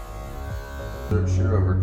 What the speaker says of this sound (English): Just clipper over comb some of this weight here.